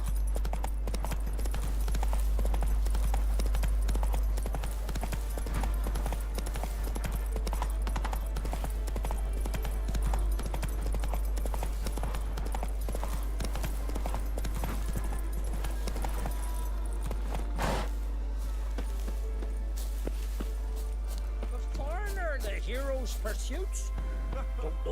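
A horse gallops in The Witcher 3: Wild Hunt, with steady rhythmic hoofbeats that run throughout, heard alongside game dialogue and talking.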